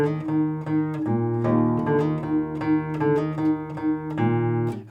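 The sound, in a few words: fingerstyle guitar thumb bass notes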